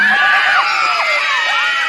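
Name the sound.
festival crowd applause and cheering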